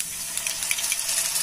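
Red chilli sauce is poured onto golden-browned garlic frying in a pan for crispy honey garlic chicken, giving a steady, even hiss of sizzling with no talking.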